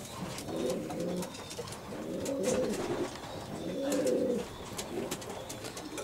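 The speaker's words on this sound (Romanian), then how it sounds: "Este din vechi porumbei de pe la Vulcu Constantin" Pigeons coo in repeated low rolling phrases, about three clear bouts roughly a second and a half apart, moderately near, with faint chirps and outdoor noise behind them.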